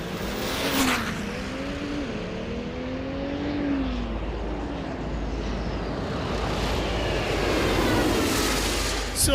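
A 2012 diesel dragster makes a 119 mph drag racing run, its engine roaring loud and steady, with rising and falling pitch sweeps over a broad rumble, and no one talking.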